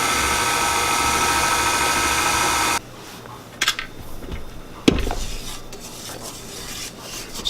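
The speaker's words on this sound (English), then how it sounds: "add it to your mixer all at once. Turn it on low speed and just mix it just until it's incorporated" An electric stand mixer whirs steadily on low speed, mixing brownie batter with flour, then cuts off abruptly, leaving a quiet room with a few scrapes and clunks.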